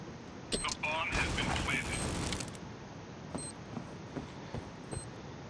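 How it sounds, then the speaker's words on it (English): A bomb being planted in the shooter game Critical Ops: a dense burst of mechanical clicking and ratcheting for a couple of seconds, followed by sparse sharp beeps and distant taps, with a voice talking over it. "I'm planting a bomb."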